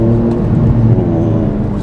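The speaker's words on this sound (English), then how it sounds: "Ooh, nice sound, sports exhaust was nice sound." An Aston Martin Vantage S or Porsche 997 C2S sports car with a sports exhaust drones loudly from close by, a deep steady engine note with a slight rise in revs and no talk.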